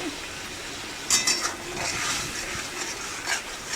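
Chilli and turmeric spice paste sizzling and being stirred in a pan, with faint scraping and clinks of a utensil against the metal; low, steady frying under brief louder stirring bursts.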